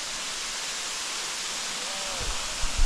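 Strong river current rushing past as a dense, steady roar of broadband water noise, loud and continuous, with a few low thumps near the end.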